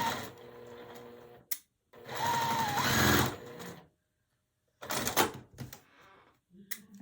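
A sewing machine stitches a quilt pie block from a Tula Pink butterfly quilt, running slowly in a couple of bursts separated by pauses, close by and moderately loud.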